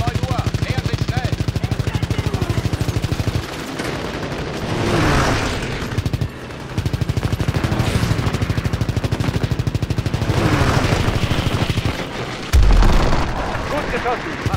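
Rapid machine-gun fire rattles through an aerial dogfight with bombers in Call of Duty WWII, set in the Ardennes offensive, loud and sustained with brief pauses, plus a heavy boom near the end under engine drone and occasional talk.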